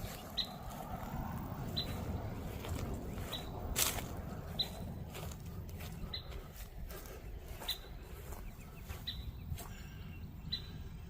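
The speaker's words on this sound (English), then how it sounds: "Birds chirping." Birds chirping in a calm cemetery: faint, sparse tweets repeating every second or two over a soft, steady breeze rumble, with no talking.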